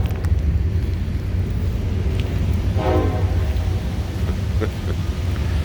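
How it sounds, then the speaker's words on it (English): A train rumbles past with a constant low roar, and a short horn blast sounds about midway through, fairly faint beneath the rolling noise. "The train is over there."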